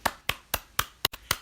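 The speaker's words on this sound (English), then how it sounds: "Can we all give Eric a round of applause right now?" Six slow, evenly spaced hand claps, close and fairly faint, isolated with short silences between them rather than a crowd applauding.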